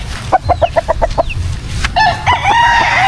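A white kelso gamefowl rooster on a small farm gives a run of quick, loud clucks, then breaks into a full crow, close and clear.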